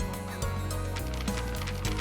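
A chicken clucking in the video game The Legend of Heroes: Trails of Cold Steel, short fowl calls sitting under loud, dense game music throughout.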